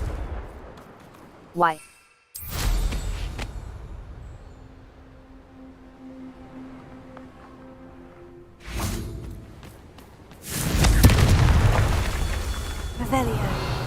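Blasting and fire spell explosions in the video game Hogwarts Legacy: a sharp boom early, then later a loud, close rumbling blast that swells and roars for several seconds, with brief voice bursts and game effects between.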